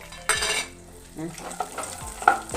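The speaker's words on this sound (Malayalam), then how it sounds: "ലേശം കടലയുണ്ട് ഒക്കെ ഇട്ട് ഒന്ന് വറുത്ത് മെറ്റായി വരട്ടെ" Peanuts sizzle and rattle in a hot pan as they are stirred, with scraping strokes and clinks of a utensil, close by.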